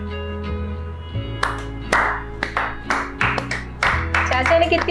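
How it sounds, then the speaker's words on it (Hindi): An indoor audience at a home game show claps in scattered, uneven bursts for a contestant, the hands clear and fairly close over a steady background hum and music, with voices mixed in. "मुस्कान के लिए भी तालियां बजा दीजिए"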